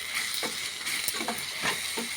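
Masala with ginger-garlic paste fries in a pan for a country-chicken egg gravy curry. A steady, close sizzle runs throughout, broken by soft scraping stirs.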